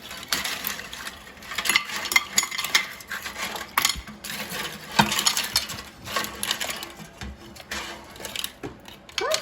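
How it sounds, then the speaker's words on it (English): Cooked frozen mussels being taken out of an air fryer basket, with repeated close clinking and rattling of shells against metal and each other in irregular bursts, no talking. "Now let me take them out of the air fryer."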